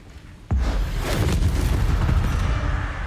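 A Bombarda spell explodes in Hogwarts Legacy: a sudden sharp blast opens into a sustained, rumbling roar that holds loud for several seconds before easing slightly.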